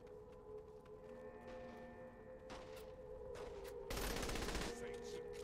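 Gunfire in Saints Row: The Third, a loud burst of rapid shots near the end over a steady droning game soundscape, with sharper single cracks earlier.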